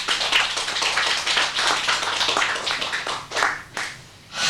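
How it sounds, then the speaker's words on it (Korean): Audience at a Buddhist dharma talk on the Heart Sutra breaking into clapping, a dense, steady patter of many hands that swells and fades in waves before trailing off near the end. "이제 알았으면 박수 쳐요."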